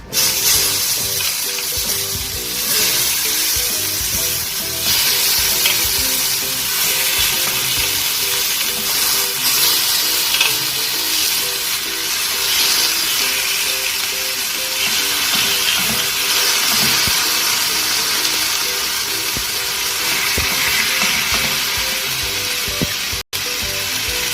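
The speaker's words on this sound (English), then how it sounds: "once it is nicely hot, I'm just going to put all the marinated pieces into it." Marinated fish pieces fry in hot oil in a pan, producing a loud, continuous hissing sizzle with fine crackles that holds steady from start to finish.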